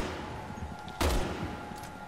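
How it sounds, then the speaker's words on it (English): A sniper rifle fires in Resident Evil 6 on Professional mode. One loud, close, booming shot cuts through steady game ambience, and fainter rumbling follows it. "This is why I love the sniper rifle so much, man."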